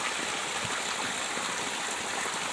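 Water from the Cikajayaan mountain spring spout on Gunung Sangga Buana pours in a steady, dense hiss and splash, loud and close, running continuously without pause or talking.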